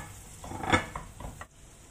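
Ginger browning in butter and olive oil in a pan, giving a soft close sizzle with brief stirring scrapes and a small clink of a utensil against the pan.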